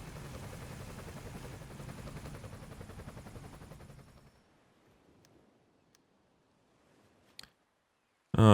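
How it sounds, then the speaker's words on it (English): Search and rescue helicopter in the video game Emergency 5, during a Hamburg flood scenario: steady rotor drone with dense low thumping for about four seconds, then fading away, followed by a couple of sharp clicks. "So rescue helicopter is coming into view here right now"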